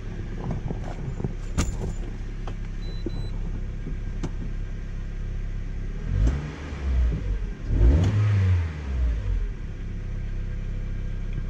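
A Mazda Miata engine just after a catalytic converter replacement idles with a low steady rumble, revving up twice in the middle before settling back, heard up close alongside faint clinks.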